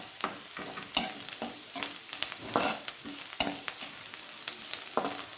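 Vegetables for noodles cook in a covered pan, giving a steady close sizzle broken by a rapid series of sharp scraping and clattering knocks, with no voices.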